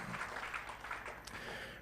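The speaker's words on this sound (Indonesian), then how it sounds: "Berikan tepuk tanganmu bagi Tuhan yang baik" Church congregation clapping at a Sunday service, a steady wash of many hands applauding at moderate distance with no voices over it.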